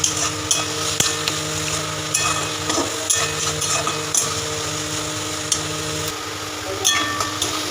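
Spice paste for a chicken curry being stirred and fried in a metal pan, a continuous sizzle broken by sharp knocks and scrapes of a spoon against the pan, near and even.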